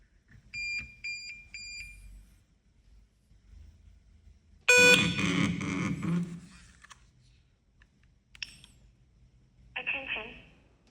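An industrial machine monitoring system sounds a short alert tone on a production floor, a quick run of repeated electronic beeps at the start, then a louder burst of sound and a brief later tone, with a voice talking in between.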